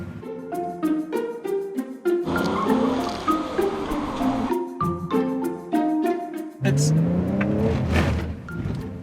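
Holden Commodore driving and accelerating, the engine climbing through gears in repeated rising revs with shifts between them, heard from inside under steady talk.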